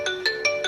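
A phone rings through a Mi Watch Revolve Active's Find My Phone feature, four loud, evenly spaced electronic chime pulses heard close and alone.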